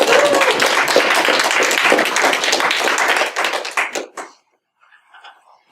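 A crowd at a motivational public speaking event bursts into dense, sustained applause that fills the room for about four seconds, then breaks off abruptly, leaving a few faint scattered sounds.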